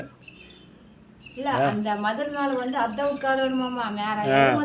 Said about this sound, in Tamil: குருவி சிட்டுக்குருவி மாதிரி தான் இருக்குது கொஞ்சம் பெருசு